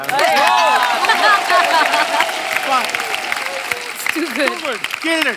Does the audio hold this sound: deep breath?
no